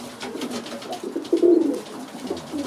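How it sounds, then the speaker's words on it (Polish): Young, not yet fully feathered pigeons in a racing-pigeon breeder's loft coo steadily, with a louder burst of throaty gurgling in the middle, close and clear with no talk. "Jeszcze nie spierzone, a już gruchają."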